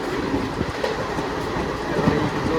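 A train rolls at speed, around 100 km/h, heard from inside the carriage as a steady rumbling roar with a soft clickety-clack from the wheels, continuous and fairly close.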